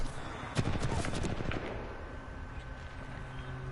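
Gunfire aimed at the player in an Overwatch-style shooter game: rapid bursts of shots with sharp transients early on, fading into a steadier background din, with no voices.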